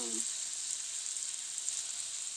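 Tofu sisig sizzles steadily in a hot pan, a loud close hiss that runs evenly throughout with no talk over it.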